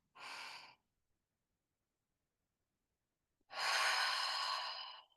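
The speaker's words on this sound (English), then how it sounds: "Take a gentle, big breath" A person draws a deep, gentle breath in during a calm grounding meditation: a short breathy intake, a pause of silence, then a longer, fuller inhalation lasting over a second, close and soft.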